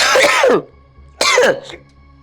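Two loud close coughs from a person, separated by a short pause, harsh and throaty with a brief silence between and no talking.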